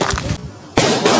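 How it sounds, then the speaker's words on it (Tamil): Two Lakshmi vedi firecrackers bursting during Diwali, each a loud, sharp crack with a ringing, crackling tail, the bursts split by a brief quiet gap. "இப்போ நம்ம ரெண்டு லட்சுமி வெடியை வெடிக்க போறோம்."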